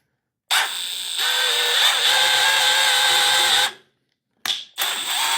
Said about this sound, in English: we're going to drill it into here and make sure that when you do drill it, or when you're tapping it in general